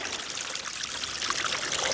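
A babbling mountain spring runs steadily close by, a continuous bright trickle and splash of water flowing over rocks with no voices.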